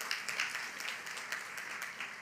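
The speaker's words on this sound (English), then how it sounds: "I just want to give you a round of applause" Room of listeners at a public health conference clapping for health department workers, a fairly faint, even wash of many hands with some sharper claps across the stretch.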